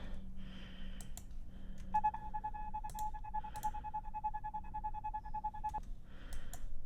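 A steady telephone beep tone holds for several seconds, chopped into a rapid rhythmic pulse by a trance gate effect, with faint clicks and background hiss around it.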